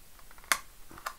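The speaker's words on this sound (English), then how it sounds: "you can do that quite easily by using just a small snip and just snip them out" Small snips cutting plastic standoffs out of a receiver enclosure box give a few sharp, crisp clicks close up, with one loud snap and two later lighter cuts, alone.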